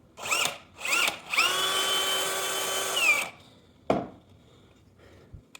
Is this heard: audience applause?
no